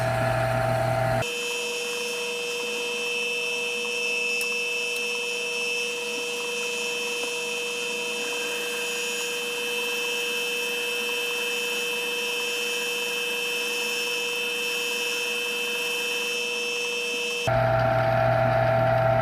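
A metal tube turns on a lathe while its end is cut off, giving a steady, even machining whine with a faint high ringing tone that holds for about sixteen seconds, framed by louder shop noise at start and end, without speech.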